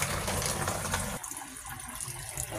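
Water drains from a washing machine drain hose, a steady rushing gush that drops to a softer, gurgling flow partway through.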